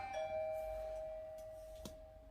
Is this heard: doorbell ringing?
yes